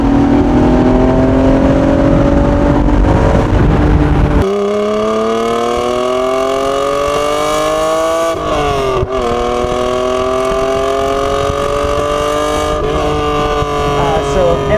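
A 1991 right-hand-drive Honda NSX engine pulls hard while driving, its rising revs heard loud and close with a raspy edge, shifting through gears as the pitch climbs again.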